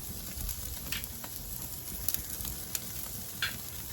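Ribeye steaks searing on a Weber kettle grill, a steady close sizzle and crackle running throughout with a few sharper pops and spits of fat.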